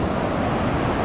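Ocean waves washing onto the shore at dusk, a steady broadband rush with wind noise on the microphone, continuous and fairly loud, no voices.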